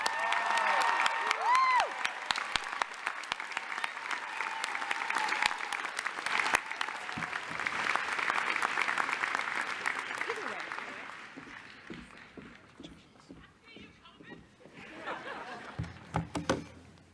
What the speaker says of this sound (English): boisterous round of applause for all of the winners